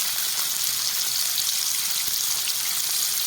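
Chopped garlic sizzling in hot oil in a pan for restaurant-style mixed fried rice, a steady, loud, close hiss with no talk over it.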